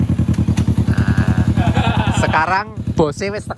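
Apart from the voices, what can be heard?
motorcycle engine idling while being warmed up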